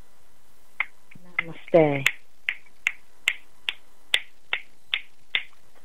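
Scattered audience finger snaps, in the spoken-word style, crack out one by one at a steady, loose pace after a short spoken greeting, sharp and fairly close in a quiet room.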